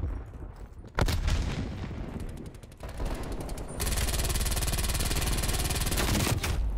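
Continuous gunfire and blasts in the video game Warface, including a frag grenade explosion, with a loud sudden burst followed by rapid dense automatic fire that stays steady and intense through to the end.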